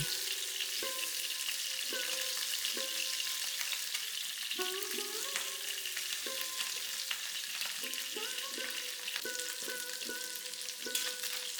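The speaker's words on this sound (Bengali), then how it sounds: "মাছগুলো ভাজবার সময় গ্যাসের ফ্লেমটা হাইতে রাখবেন" Pabda fish fry over a high gas flame in hot oil, a loud continuous sizzle filling the whole stretch with a steady crackle and no voices.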